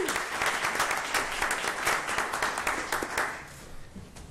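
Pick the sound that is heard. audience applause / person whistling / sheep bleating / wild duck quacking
audience applause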